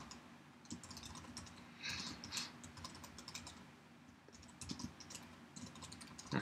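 Fingers type on a computer keyboard close to the microphone, a quiet run of irregular key clicks with short pauses and small bursts, no talk.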